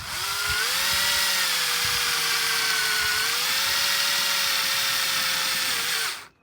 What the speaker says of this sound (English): I'm going to use one of these screws just to drill the holes.